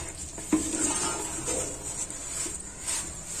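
Rava upma is served from a pan with a metal spoon: a sharp clink, then light scraping and stirring against the pan, close and fairly quiet, with no speech.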